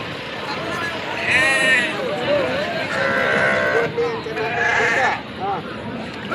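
Sheep bleat in loud, drawn-out calls at the Kotha Cheruvu sheep market, several overlapping cries rising over a steady crowd murmur under an overcast, rain-threatening sky.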